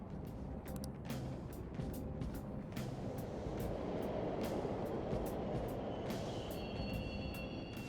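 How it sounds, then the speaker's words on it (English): Subway trains running in the game Persona 5 Royal, a continuous loud rumbling roar with rhythmic clacking ticks of wheels over rail joints and a faint metallic squeal near the end. "The trains are totally running!"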